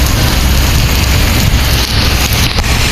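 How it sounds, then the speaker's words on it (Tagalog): Heavy rain pours in a continuous, loud roar in Dasmariñas, Cavite, with dense steady hiss and faint wind, no pauses throughout. "Lakas ng ulan, no?"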